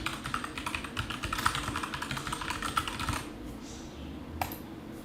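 Rapid clicking of a computer keyboard as a name is typed, a steady close-up patter of keystrokes for about three seconds, then a pause and one last isolated tap.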